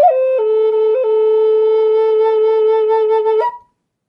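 A breathy Native American flute holds a steady tone with a couple of brief pitch steps, then ends in a quick upward bark as the note cuts off.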